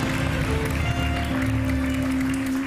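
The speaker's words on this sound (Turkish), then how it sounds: "Alkışlıyoruz. Bravo." Studio audience on a live Turkish late-night talk show applauding steadily for a few seconds, dense clapping close and loud with a sustained hum underneath.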